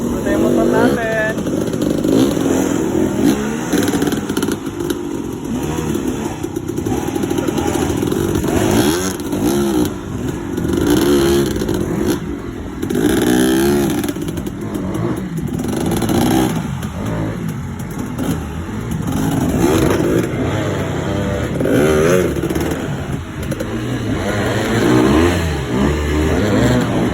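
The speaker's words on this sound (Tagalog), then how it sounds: "Ito yung motor natin." Dirt bike engine on the Rubicon jeep trail, revving and straining at close range throughout, with wind noise and people talking over it.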